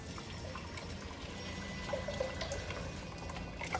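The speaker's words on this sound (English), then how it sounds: "Now I'm going to add 2 large cans of tomato puree." Tomato puree pouring from large cans into a cooking pot over sautéed ingredients, a soft continuous liquid glug and trickle with faint clinks, steady and close throughout.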